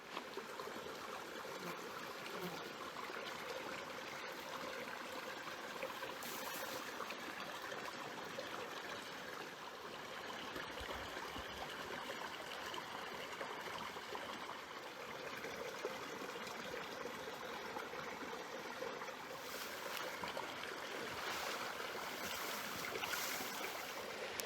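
A small creek flows past a dispersed campsite in Wyoming with a soft, continuous rushing and trickle of clear water, steady and fairly quiet throughout.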